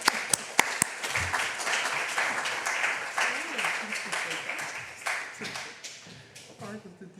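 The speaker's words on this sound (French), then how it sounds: "je vous propose de l'applaudir" An audience applauds a guest lecturer after a lecture series, opening with a few sharp, separate claps before the clapping builds into scattered applause. Voices talk faintly beneath it.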